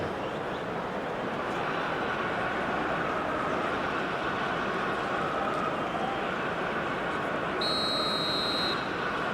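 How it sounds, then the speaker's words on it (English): Referee whistle blowing in the eFootball PES 2021 football video game, a short pair of bright tones near the end, heard over a steady, loud stadium crowd roar. "And the whistle's gone, presumably for offside."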